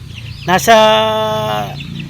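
A chicken clucks loudly and close by, one drawn-out call among young chicks two to three weeks old in a brooder.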